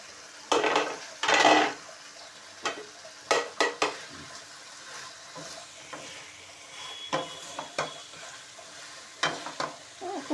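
Chicken goes into a pan with light spices for a quick roast, giving bursts of sizzling and frying alongside stirring and clinks of utensils against the pan, loud at first and then in short intermittent scrapes.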